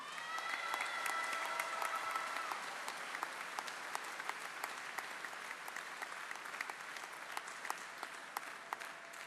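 A crowd at a youth launch event applauds steadily and at moderate distance, a dense continuous patter of clapping with a few sharper claps standing out, sustained throughout.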